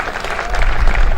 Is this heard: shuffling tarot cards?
no